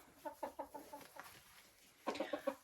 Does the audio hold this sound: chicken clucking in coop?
yes